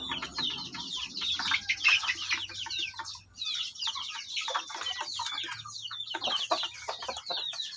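Young stag gamecocks cluck and call in a busy run of sharp, repeated bursts, fairly close, with a low steady hum beneath and no talking.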